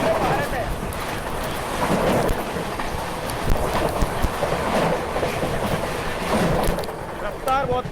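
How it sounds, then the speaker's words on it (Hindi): The Delhi Amrit Bharat Express rushes past at speed alongside another moving train, with loud rhythmic wheel clatter and a strong wind roar throughout. "अभी जो ट्रेन निकली थी वो थी भाई दिल्ली अमृत भारत"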